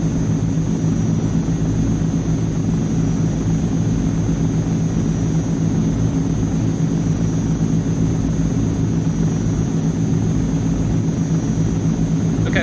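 Turboprop engines of an AzurPoly C160 Transall in a flight simulator game drone loudly and steadily in flight, a dense, unbroken hum with no talking.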